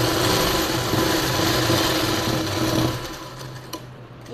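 Sewing machine stitching along the edge of a blouse lining, a close, steady rapid whir that runs for about three seconds before slowing and fading.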